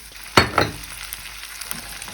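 Diced Turkish sucuk sausage sizzles in a hot pan, with a couple of sharp scraping stirs near the start, then a quieter steady frying crackle.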